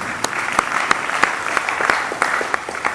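A church congregation claps in a sharp, irregular burst, the individual hand claps distinct and fairly close, with a murmur of voices beneath.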